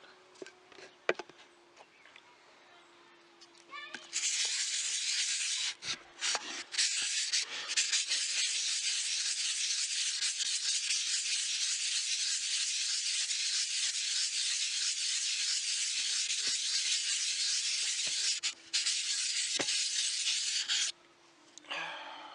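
A Sheffield straight razor is honed on a 1000 grit Norton stone, giving a steady, close, continuous gritty scraping that runs for about seventeen seconds with brief breaks and no talk.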